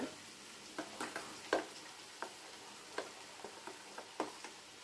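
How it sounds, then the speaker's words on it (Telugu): Quiet sizzling of spices tempering in hot oil, with scattered small pops and crackles spread irregularly throughout. "ఫస్ట్ తాలింపు అయిపోతుంది కదా అని చెప్పి తాలింపు చేస్తున్నాను"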